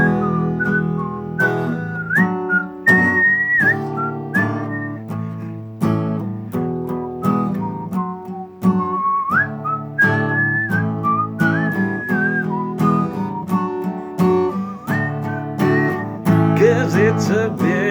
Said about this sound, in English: the thing I like about it is you can whistle at the start